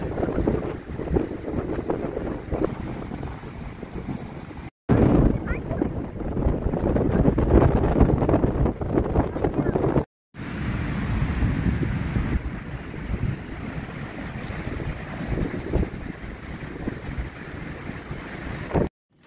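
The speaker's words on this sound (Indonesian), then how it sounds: "Masih lagi bertiup kencang guys." Strong wind blows steadily at a riverside campsite beside the Rompin River, a loud continuous roar of gusts buffeting the microphone, with brief cuts and no voices.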